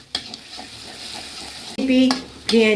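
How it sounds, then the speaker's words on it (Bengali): Spices being stirred with sour yogurt in a hot pan while cooking fish, a low sizzle under scraping spoon strokes, with sharp metallic clanks of the utensil against the pan near the end. "এবার দিয়ে দেবো আমি একটু টক দই, টক দইটা দিয়ে খুব ভালো করে নাড়তে হবে।"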